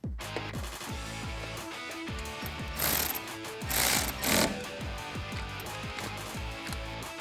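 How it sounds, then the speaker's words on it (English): A 10mm socket ratchet tightens the negative battery terminal on a Tacoma: a continuous, close, rapid clicking of the pawl, with a few brief louder metallic rattles partway through and no voices. "this gets tightened down with a 10mm socket"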